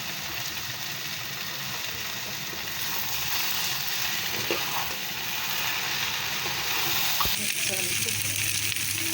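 Vegetable noodles sizzle and fry steadily in a pan as egg is added, a continuous hissing bed with occasional stirring clatter, faint voice murmurs underneath.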